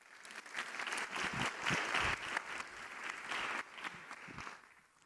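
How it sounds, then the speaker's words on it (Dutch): A large audience applauds Professor Margriet Sitskoorn at a university lecture event, a dense, steady wash of clapping that swells, holds strong for several seconds, then thins out toward the end. "een heel groot applaus voor professor Margriet Sitskoorn"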